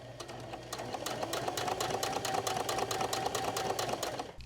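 A sewing machine stitches fabric pieces for foundation paper piecing with a fast, steady, close mechanical whir and rhythmic needle clatter that runs unbroken throughout.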